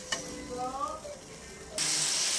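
Tomatoes fry in a pan for a Tamil snake gourd kuzhambu, a steady low sizzle that swells into a loud, bright hiss near the end, with a faint voice early on.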